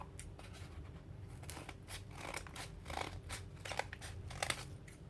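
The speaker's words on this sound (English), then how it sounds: "I'm going to put the A4 printer paper for guidance and just with scissors" Scissors snip through A4 printer paper in a series of close, crisp cuts with short pauses between them, a quiet crafting task with no one speaking.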